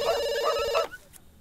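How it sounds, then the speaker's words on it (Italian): A telephone ringing in The Sims 2, a bright electronic ring-tone that warbles for under a second, then cuts off to near silence. "Sta suonando il telefono"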